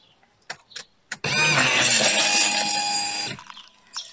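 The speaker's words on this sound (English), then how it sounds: "that sounded like a pump running to me" Electric fuel pump on a Mercedes W203 car priming: a steady, loud mechanical buzz lasting about two seconds, set between a few short clicks before and after.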